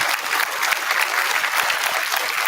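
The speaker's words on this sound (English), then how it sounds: "Round of applause." Steady applause from a room full of people at a middle school awards day, dense clapping at a constant loud level throughout, without a break.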